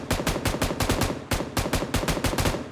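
Rapid bursts of automatic gunfire from a battle royale video game, loud and close, in two quick volleys of sharp repeated shots with a brief pause between them.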